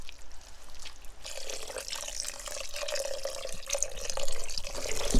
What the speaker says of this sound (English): we're going to add our 5 cups of stock.